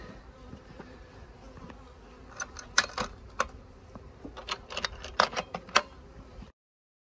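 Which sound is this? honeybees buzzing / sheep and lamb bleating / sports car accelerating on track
honeybees buzzing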